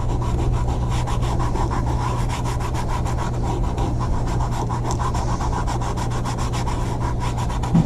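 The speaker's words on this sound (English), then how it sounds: "I'm going to burnish this with my finger because I want to make sure that it's in there nicely" Glimmer paper being pressed into a craft stencil with a fingertip, a close, soft, continuous rubbing and scratching that holds steady for several seconds with no talk.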